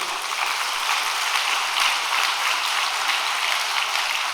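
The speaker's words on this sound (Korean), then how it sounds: "박수 한번 쳐드립시다" A congregation at a Korean overnight prayer devotion claps together in a steady, even roar of applause that holds at one level from start to finish, with no talking.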